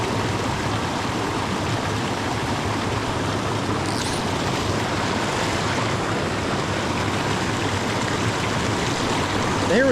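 Whitewater rushing down a mountain trout creek makes a steady, loud, full-bodied roar and hiss that stays continuous and close for the whole stretch, with no voices.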